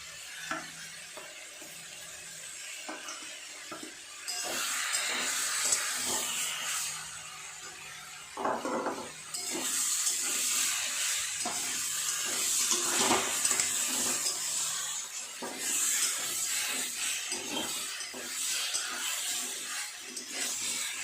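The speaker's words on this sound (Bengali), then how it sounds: "এবার করলা ভাজাগুলো দিয়ে দেবো।" Fried bitter gourd pieces tipped into a pan of spiced vegetables for shukto, giving a steady, fairly loud sizzle with stirring and scraping throughout, no talking.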